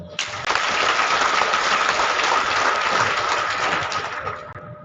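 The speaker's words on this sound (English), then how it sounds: "I will give the Commandant another round of applause." An audience at a military resettlement centre graduation ceremony in Nigeria bursts into sustained applause, a dense, loud wash of clapping that starts abruptly, holds steady for about four seconds and then tapers off.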